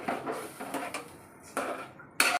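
Spices are sautéed with rohu fish pieces in a pan: a metal spatula scrapes and clatters in short close bursts, ending in a sharper, louder scrape.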